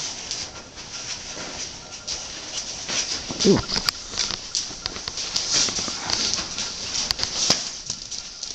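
Hooves clop irregularly on hard ground alongside scuffing and rustling, with a few sharp knocks and a voice briefly audible nearby.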